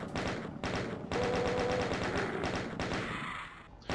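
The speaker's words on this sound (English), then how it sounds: "and now back to the chain gun again" Chaingun firing in DOOM on the Earthtone Base map, a dense continuous rattle of rapid shots with brief gaps, loud and close.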